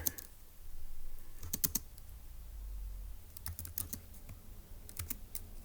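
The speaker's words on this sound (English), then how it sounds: "let's go ahead and type that up in our notes in section B" Notes typed on a computer keyboard come through as quiet clusters of quick key clicks in short bursts with pauses between, close and soft over a low background hum.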